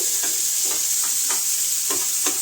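Onions fry in a pan with a constant bright sizzle. Regular stirring strokes scrape through it about twice a second, close up and with no one speaking.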